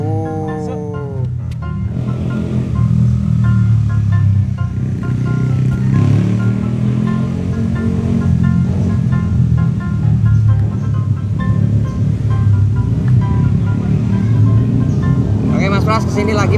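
Motorcycles in a road race pass by, their engines revving in a dense, continuous roar that rises and falls, with someone talking throughout.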